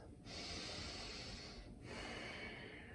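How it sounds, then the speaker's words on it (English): Ujjayi breathing drawn in and out through the nose during a yoga flow class, a steady close hiss of inhale and exhale with a short pause between. "Using that Ujjayi breathing in and out through the nose."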